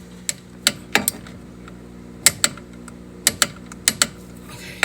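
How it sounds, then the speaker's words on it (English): A torque wrench tightening a brake caliper banjo bolt to 22 foot-pounds on a Lexus IS300 fitted with LS400 calipers, heard as a series of sharp, close, irregular clicks over a quiet hum. "we're gonna go ahead and torque this banjo bolt to 22 foot-pounds"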